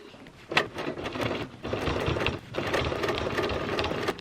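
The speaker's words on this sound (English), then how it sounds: "sew in one continuous line and back stitch at the beginning and the end" A sewing machine stitches a clutch wallet in close, loud, rapid mechanical runs, pausing briefly between bursts of stitching.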